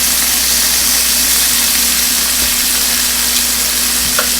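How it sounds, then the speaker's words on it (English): Chicken pieces browning in a hot pan after being flipped, a loud dense unbroken sizzle with a steady low hum underneath and a couple of faint knocks, close up and without talk. "I'm going to flip them over. And I'm going to let them brown on the other side."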